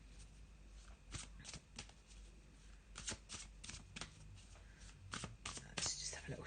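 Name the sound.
shuffling a Faulkner tarot card deck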